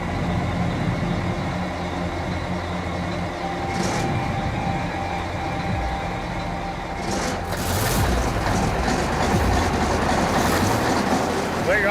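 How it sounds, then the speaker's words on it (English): An old mining engine on a Klondike gold claim turns over for the first time in five years, a loud continuous rumbling drone that builds toward the end with sharp mechanical bursts. "It's been 5 years since this engine was last turned over."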